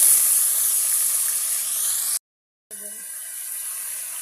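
Potatoes tipped into a hot pan of browned onions give a steady bright sizzling hiss that cuts out abruptly, then returns as a lighter frying crackle.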